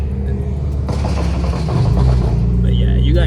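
Lineup of BMW cars on a street cruise in fog, engines producing a steady low rumble that swells louder partway through, with a revving whine rising near the end.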